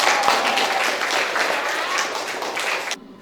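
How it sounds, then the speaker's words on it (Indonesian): A classroom group applauds a presenting student group at a university lecture, a dense, steady wash of many hands clapping for about three seconds before stopping abruptly. "Oke, tepuk tangan untuk kelompok."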